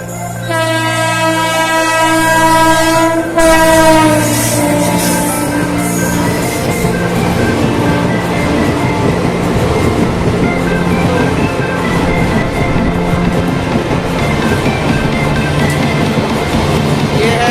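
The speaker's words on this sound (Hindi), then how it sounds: "कालिंदी एक्सप्रेस और आप देख सकते हैं क्या स्पीड है।" Kalindi Express train rushing past at speed through Rawatpur station on the Brahmavart–Kanpur line, a loud sustained roar with a horn blast at the start and continuous wheel and carriage rumble throughout.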